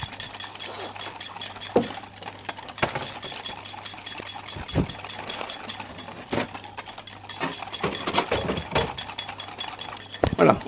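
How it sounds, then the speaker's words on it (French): A whisk clinking and scraping against a bowl while mixing a set lemon-bergamot cream smooth, irregular metallic taps and swishes repeating close by, with occasional sharper knocks. "Alors, au fouet, on mélange bien."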